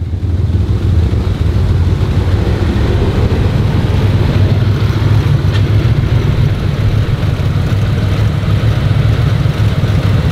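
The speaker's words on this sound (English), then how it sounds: "it is a healthy pulse coming from the engine" A Mitsubishi 3000GT VR4 in rough condition runs steadily nearby, a loud, continuous low engine drone and throb with no talking over it.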